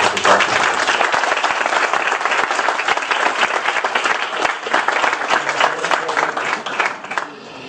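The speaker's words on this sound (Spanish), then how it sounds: "Un aplauso para ellos, por favor." An audience gives a dense, sustained round of applause after a call to clap for the people being honoured, steady and loud for about seven seconds before it tapers off at the end.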